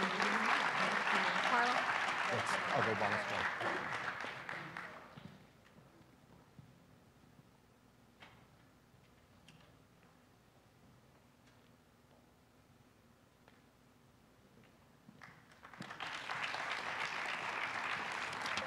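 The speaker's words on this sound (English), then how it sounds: "let's give her a round of applause" Audience applause at a Brooklyn awards ceremony, loud clapping at the start that dies away into a quiet room with brief speech, then rises again strongly near the end.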